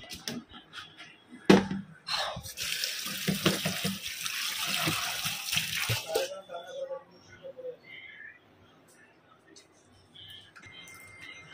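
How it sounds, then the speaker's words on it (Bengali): Soaked vegetables are rinsed under running tap water in a kitchen sink, with a steady splashing stream for a few seconds followed by quieter dripping and handling, heard close with faint talk in the background. "আমি এদিকে ধোয়াধুয়ির কাজ করছি"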